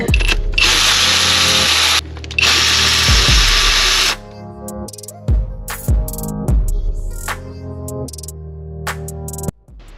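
A power drill with a 10mm E-Torx socket whirs in loud, close bursts while removing the ignition coil pack from a V6 engine, with sustained runs followed by shorter stop-start pulses.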